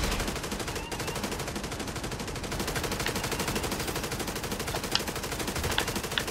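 Rapid automatic gunfire from The Division 2 plays as a steady, dense rattle throughout, with a few sharper individual shots standing out near the end.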